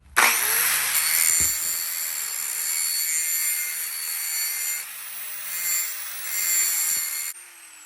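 A 1/2-inch metal bar being cut to length during a prop sword build, a loud steady power-tool cutting whine with a gritty rasp, running almost continuously for about seven seconds before stopping abruptly.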